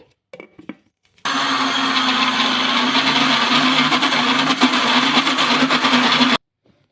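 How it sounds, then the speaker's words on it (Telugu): A mixer grinder whirs loudly and steadily for several seconds as it grinds millets and urad dal with a little water, then cuts off abruptly. "కొన్ని వేసుకొని మిక్సీ అయితే పట్టేసుకోవాలి"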